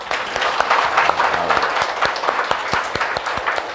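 Church congregation at a Korean worship seminar claps together in a dense, sustained burst of applause, loud and close, with a few sharp individual claps standing out.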